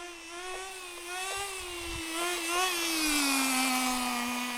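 A 1/10 scale nitro RC car engine runs outdoors with a high, buzzing whine that rises and falls as the throttle changes, steady and fairly close throughout.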